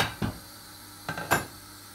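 A frying pan set down on a stove, three short metallic clanks and knocks spaced across a quiet background, close and moderately loud.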